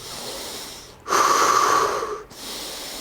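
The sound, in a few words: deep breathing during back exercise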